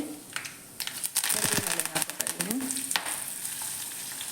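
Cumin seeds and asafoetida powder dropped into hot oil on a simmering flame, crackling and spitting in quick bursts that start after a quiet moment and keep sizzling softly, with faint stirring clatter.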